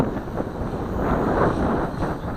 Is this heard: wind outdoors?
yes